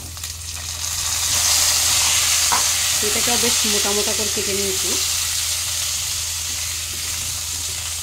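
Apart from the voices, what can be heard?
potatoes and papaya frying in oil in a pan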